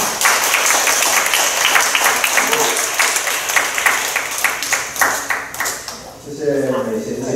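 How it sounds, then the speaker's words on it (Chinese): An audience breaks into loud, sustained applause to welcome a speaker at a church gathering, dense clapping that thins out near the end as a voice begins speaking. "我们先用掌声欢迎他的新哥哥赵亮跟我们说几句话。"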